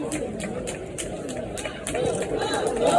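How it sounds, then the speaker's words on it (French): A crowd of spectators at an Olympic torch relay cheers and murmurs, a broad continuous roar that swells louder toward the end. "C'est sous les acclamations du public venu en nombre pour assister au relais"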